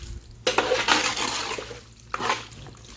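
Beef being mixed by hand with spices and ground coriander for a tehari marinade, soft wet squelching and rubbing strokes in a few bursts, close and moderately quiet.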